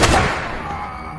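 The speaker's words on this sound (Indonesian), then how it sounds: "Ia menembak mati Drake sebelum menebas Ryan." A single loud gunshot from an FBI agent shooting a man opens with a sharp bang that decays quickly into a fading echo.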